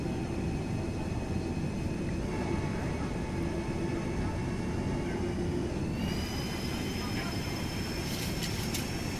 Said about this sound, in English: I just love this flap sound. Just, all right, one more notch of flaps.